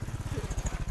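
A motorcycle engine thumps close by in a quick, even low pulse, steady throughout the moment, with no speech over it.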